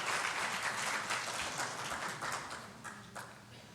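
A church congregation claps in an offering of applause, a steady broadband patter of many hands that fades slightly toward the end with no voices over it.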